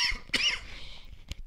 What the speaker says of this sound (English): I'm sorry, my allergies are kicking in. I'm about coughing every word.